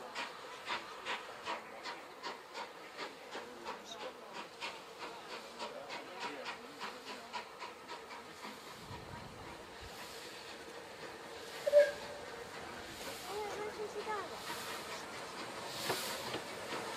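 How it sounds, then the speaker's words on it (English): A heritage railway steam locomotive shunts on the Gloucestershire Warwickshire line, with a rapid series of soft rhythmic chuffs and clanks at middle distance, then quieter rumbling and a single sharp knock. "as she's doing some shunting first."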